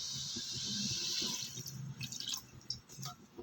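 Water is poured into a spiced bhature mixture in a bowl, a faint trickling splash that thins into a few scattered drips and small liquid plops near the end.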